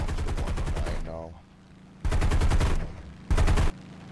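Bursts of machine gun fire from a Spitfire attacking a Bf 109 in a flight combat video game, loud and close, in three rapid strings separated by short pauses.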